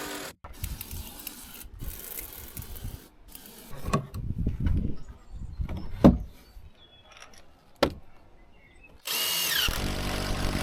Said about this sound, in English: using a masonry bit to drill into the concrete footing, and then a concrete screw to hold it in place